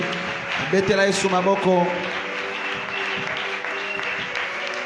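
A church congregation bursts into applause and cheering, a dense wash of clapping with raised voices and a singing tone over it, holding steady for several seconds.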